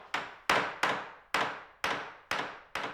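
A hammer strikes wooden boat planks in a clear, ringing rhythm, about eight sharp knocks with short resonant decays, close and alone without talk.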